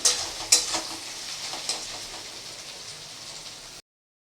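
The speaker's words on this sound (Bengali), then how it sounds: "পেঁয়াজটাকে একটু ভালো করে ভেজে নিতে হবে" Onions frying in oil in a pan, a steady close sizzle with a few sharp stirring clacks near the start, no talk, then an abrupt cut to silence.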